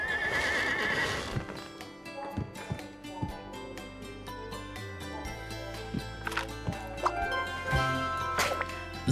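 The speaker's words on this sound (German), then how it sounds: "Blaues Pferd." A blue horse in the video game Scribblenauts Unlimited neighs loudly and whinnies over clip-clopping hooves, set against game music and plinking effects.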